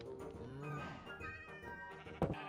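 Cat meowing in the Minecraft video game, a few short tonal mews over a soft bed of game background music, with a louder sharper sound near the end.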